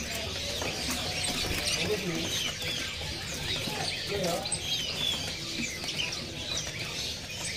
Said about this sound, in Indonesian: Ini ada burung perenjak atas ya pemirsa nih.